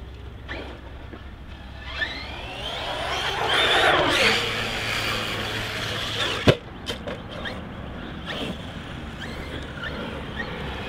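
ARRMA Kraton 6S BLX V4 2019 radio-controlled car driving during a torture test: a whining electric motor rising and falling over rough ground, with a sharp impact clatter midway and scattered knocks afterward, with no talk.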